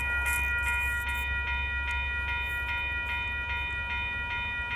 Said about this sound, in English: Looks like this train is going to be on a holding waiting for a second